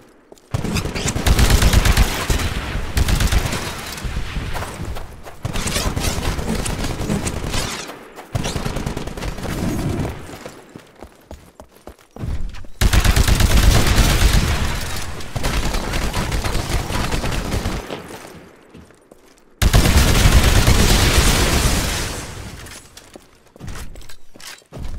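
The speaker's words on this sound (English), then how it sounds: "Destroy the Titan with your anti-Titan weapon." Heavy anti-Titan weapon fire in the Titanfall beta training combat scenario, loud bursts of blasts and impacts lasting several seconds each, separated by short quieter gaps.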